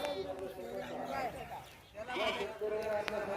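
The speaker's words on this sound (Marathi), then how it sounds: "चला तर तुम्हाला पूर्ण मी बाळूमामाच्या मेंढ्या दाखवतो" Several sheep bleat repeatedly in a wavering chorus, fairly close, with a busy outdoor background and some voices murmuring among them.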